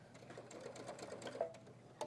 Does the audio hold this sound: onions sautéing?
no